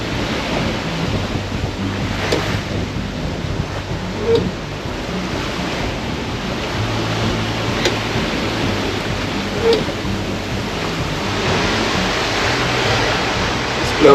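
Strong wind roars across the microphone with waves surging around a sailboat running dead downwind in 25-knot winds near the Outer Hebrides, a steady loud rushing wash with occasional gusty bumps.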